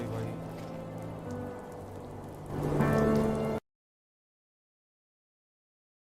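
Steady rain patters in a survival story game, a dense even hiss that swells louder near the end before cutting to silence.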